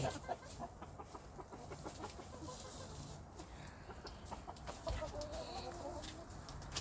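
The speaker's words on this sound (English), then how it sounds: "Good job, Whitey, calling your ladies over." A rooster clucks repeatedly in a farmyard, calling hens over, with soft intermittent clucks and bird calls set against a steady outdoor background.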